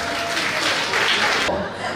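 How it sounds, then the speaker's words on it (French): A crowd applauds at a Mother's Day celebration in Agboville, a close, dense wash of clapping that holds steady and then thins out toward the end. "On applaudit pour nous."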